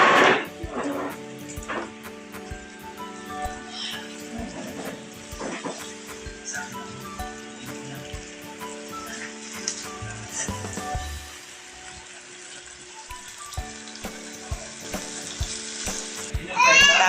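Chicken breast sautéing in a pan with soy sauce and black pepper, a steady close sizzle with stirring clatter and a few scrapes running throughout.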